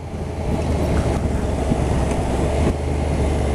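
A 2016 Honda NC750S motorcycle with DCT gearbox runs in sport mode, its engine note a steady, loud, continuous drone held at higher revs with strong low rumble throughout.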